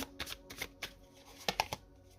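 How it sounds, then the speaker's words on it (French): Tarot cards being drawn from a deck: a quick run of soft papery flicks and snaps, several in succession close to the microphone, with no talk. "Allez, on va prendre une autre carte."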